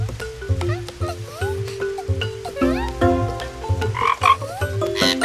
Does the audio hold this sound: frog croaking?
yes